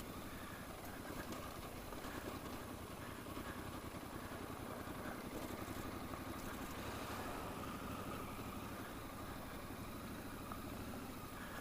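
A Triumph Scrambler motorcycle rides along in third gear, its engine a steady low throbbing drone that holds constant throughout, mixed with wind rush.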